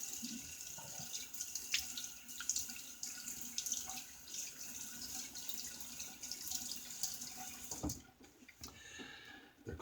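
Tap water runs into a sink for rinsing after a shave, a steady, soft splashing stream that stops abruptly near the end.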